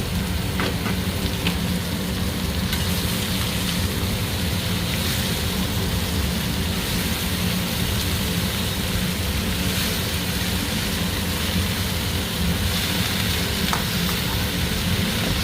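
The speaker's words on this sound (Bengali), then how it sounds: "রসুন দিয়ে আলু দিয়ে পুঁই শাক ভাজা।" Finely chopped Malabar spinach leaves frying with garlic, potato and green chilli, giving a loud, dense, steady sizzle that carries on evenly without pause, with no voices.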